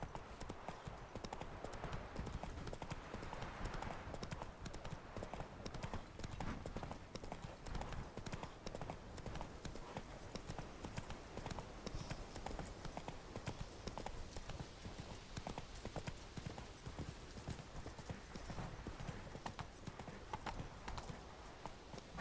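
Hooves of the horse Roach clip-clopping in a fast, steady galloping rhythm in The Witcher 3 video game, continuous and close throughout.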